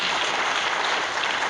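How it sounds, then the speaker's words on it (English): A church congregation clapping during a Sunday service, a dense and steady wash of many hands applauding together at close range, with no talking. "If you want to clap for the Lord, you better clap."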